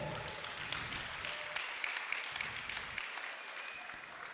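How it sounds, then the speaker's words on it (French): Church congregation at a Sunday service applauding, a faint, steady patter of many hands clapping that thins and fades toward the end, with no voices standing out. "Acclamez pour vous-même. Clap for yourself."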